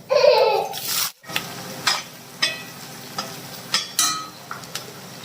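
Onion drops into hot oil with mustard seeds and cumin, a loud burst of sizzling that settles into steady frying, with several sharp scrapes of a spoon stirring the pan and no speech.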